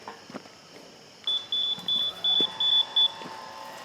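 An electronic gate opener control unit gives six short, evenly spaced high beeps as a setting is saved, sounding clearly over faint background noise outdoors.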